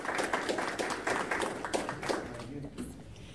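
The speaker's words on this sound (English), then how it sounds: "So give her a round of applause." Meeting audience gives a speaker a round of applause, a steady wash of clapping mixed with crowd voices and chatter, tapering off toward the end.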